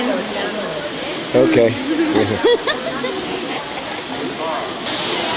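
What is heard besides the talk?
heavy hail and rain pouring down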